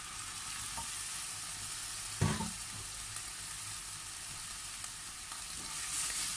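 Chicken feet fry in a pan with a constant soft sizzle, broken by one brief clatter of a utensil near the start and faint scrapes later, no voices present.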